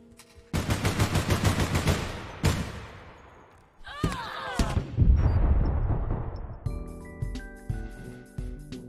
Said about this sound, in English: Once that gun goes full auto,